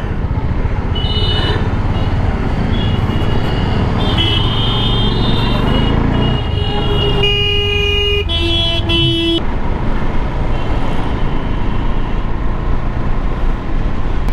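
Busy morning road traffic on the way to school in Kasganj, with a steady loud engine and road roar, several car horns honking in short and longer blasts, and some talking mixed in.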